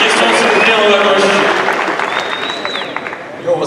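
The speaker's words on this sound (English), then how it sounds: "On peut l'applaudir, son honnêteté." An audience claps steadily at the UFC Paris press conference, a broad wash of applause that fades gradually over a few seconds.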